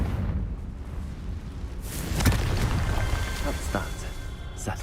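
A Confringo fire spell from Hogwarts Legacy bursts with a sudden explosive boom at mid-clip, then crackles and pops fade out over a steady rumbling game background.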